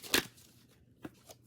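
Tarot cards are shuffled and drawn during a love reading: a short papery riffle of shuffling up front, then two softer, quieter snaps as single cards are pulled, with no voices.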